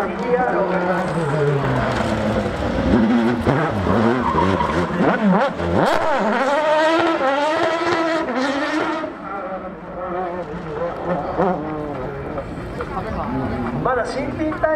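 A Super GT race car pulls away from a pit stop on fresh, slick new tires with a loud engine rising and falling through the gears and some tire noise, while a commentator talks over it.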